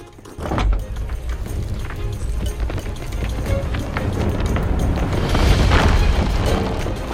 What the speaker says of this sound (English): All it took was a well-placed blunderbomb throw, and I've sent these pirates to the Ferry of the Damned.